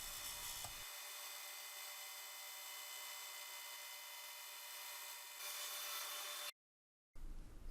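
A band saw with an 8 teeth per inch blade slices through a wooden board, a steady close-up rasping hum held for several seconds, swelling briefly near the end before cutting off abruptly.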